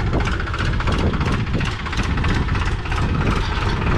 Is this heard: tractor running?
yes